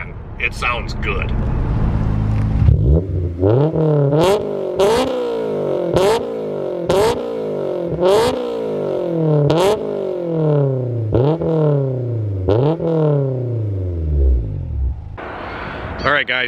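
Honda S2000 sports car engine revving hard through repeated gear-change sweeps, each rising pitch cut short by a shift, loud and close, with a brief idle at start and end.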